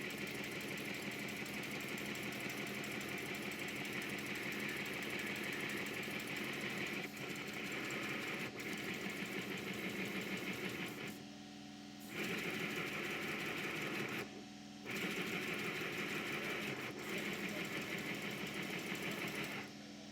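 A small model steam engine runs on compressed air from an airline adapter in full forward gear. It gives a fast, steady mechanical chuffing and clatter for about twenty seconds, broken by two brief pauses.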